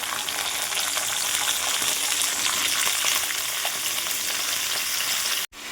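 Cut potatoes frying in hot oil after a tempering of curry leaves and dried red chillies, a steady, dense sizzle that holds evenly throughout before cutting off abruptly near the end.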